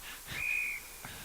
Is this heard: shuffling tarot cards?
no